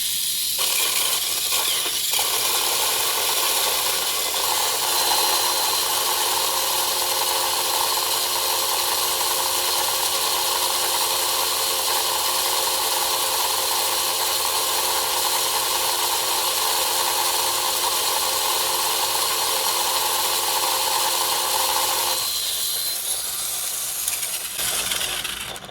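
A freshly tuned RC car electric motor runs at a steady, loud high whine for about twenty seconds, then shifts and tapers near the end.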